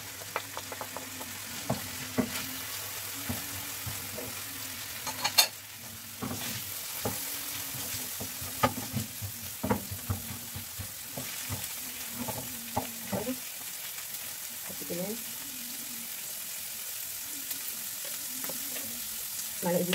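Small chopped onions fry in a pan with a continuous low sizzle, broken by frequent scraping and knocking as they are stirred, heard close up for about twenty seconds.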